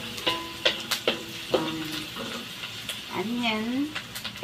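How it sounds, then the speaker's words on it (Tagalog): Carrots, beans and capsicum stir-fried for yellow mee goreng: a spatula scrapes and taps the pan in an irregular rhythm over a soft sizzle, with brief murmuring voice sounds near the end. "Yan ang inahalo natin sa yellow mee goreng natin."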